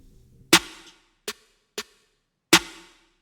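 A trap beat snare with a little reverb hits four times alone, crisp sharp cracks with a short airy tail, irregularly spaced against near silence.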